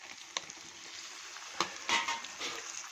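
Tomatoes and rock salt sizzle and fry in a pan while being stirred for a country rooster pepper chicken, with soft steady frying hiss and a few sharp clinks and scrapes of the spoon against the pan.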